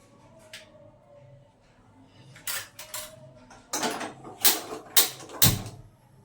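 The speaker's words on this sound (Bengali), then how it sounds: "এবার আমি গ্যাসে এটাকে বসিয়ে দেবো।" A pot holding amla and half a bowl of water is set down on a gas stove, giving a series of sharp metallic clanks and scrapes that grow louder and closer together toward the end.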